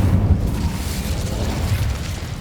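An Incendio fire spell bursting in Hogwarts Legacy, a deep rumbling whoosh of flame with a heavier thump at the start, fading into a low roar.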